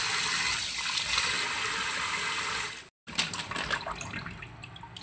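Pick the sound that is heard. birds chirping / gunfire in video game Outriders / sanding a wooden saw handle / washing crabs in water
washing crabs in water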